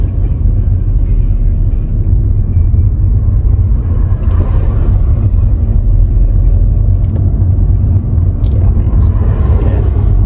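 A car engine that is running rough fills the cabin with a loud, steady low rumble and drone for the whole stretch, with no clear break.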